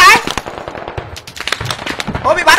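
Rapid gunfire crackles in the mobile shooter game PewPew: dense bursts of sharp shots, some close and loud, others fainter, with voices calling out over the firing.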